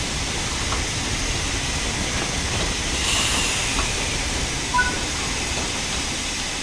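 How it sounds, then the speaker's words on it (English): Steam locomotive braking to a stop in Train Sim World 5, a steady broad hiss and rumble with a brief swell of escaping air partway through. "Use the combination brake to apply some braking force and bring the train to a stop."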